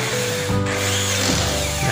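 A power tool buzzes continuously up close while driving a fastener to tighten a bracket cut from leftover gutter scrap for an exhaust fan, its pitch shifting slightly as the load changes, loud and without talk.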